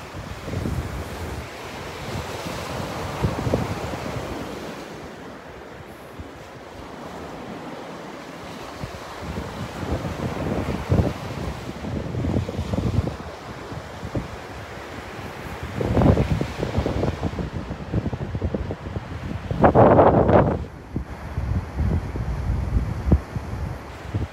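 Surf breaking on the beach at Delnor-Wiggins State Park, with gusty wind buffeting the microphone and a few louder wave crashes rising above the steady wash.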